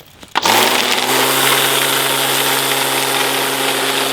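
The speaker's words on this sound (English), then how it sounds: "So the weed whacker works" A weed whacker engine starts with a brief sputter, then runs at a steady, loud, close-up idle with a constant buzzing drone and no talking over it.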